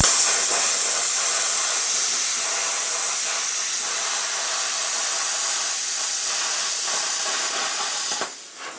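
YesWelder Firstess MP200 plasma cutter slicing 12 gauge sheet metal along a straight edge, a loud, continuous hiss that holds steady for several seconds, then cuts off near the end.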